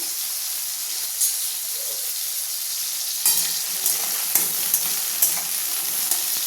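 Vegetables fry in a hot pan with a constant close hiss and sizzle, while a spatula scrapes and stirs in several quick strokes in the second half, no voices.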